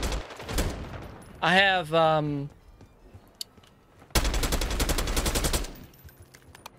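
AK74 rifle fire in Call of Duty Black Ops 6 rips out in a loud, rapid automatic burst lasting over a second, after someone speaks briefly.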